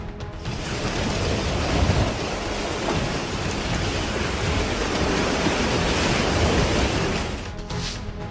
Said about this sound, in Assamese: ধুমুহা শিলাবৃষ্টিত হাহাকাৰময় পৰিস্থিতি